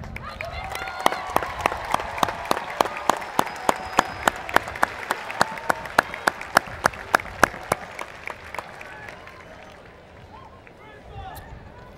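An audience at a high school graduation ceremony claps for the teachers, with steady crowd applause that holds for about eight seconds and then thins out to scattered claps.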